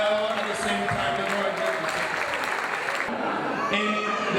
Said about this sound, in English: give a thunderous applause to these delegates of MACUDA America